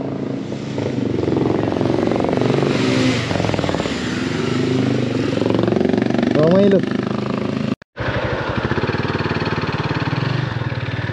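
A motorcycle engine drones steadily up close while riding at night in Kathmandu, with someone talking over it; the sound cuts out briefly near the end.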